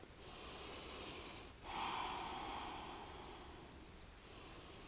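Slow, faint breaths, a long airy inhale and exhale, sound close up during a yoga forward fold in a vinyasa session.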